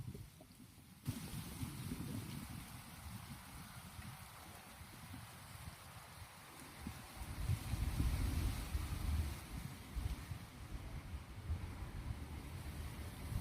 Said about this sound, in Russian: А вы любите звуки ветра?